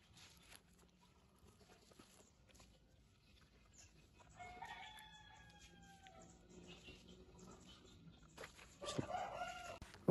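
Rooster crowing with hens clucking nearby, faint and outdoors, the crow's harmonic call rising in the middle and a louder burst of clucking near the end.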